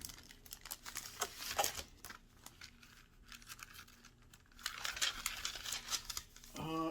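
Paper sheets from an Army Painter wet palette being handled: close crinkling and rustling in bursts, with a quieter lull in the middle and soft clicks at the end.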